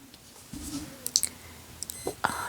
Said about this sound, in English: I bet you heard my watch beep